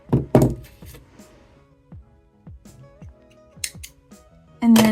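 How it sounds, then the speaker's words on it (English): Scissors snip through crochet yarn with a few close, crisp clicks and small thunks between the cuts. "and cut my yarn."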